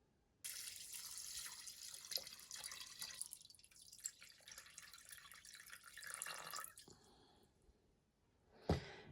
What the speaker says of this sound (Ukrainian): Все, можна заливати водою.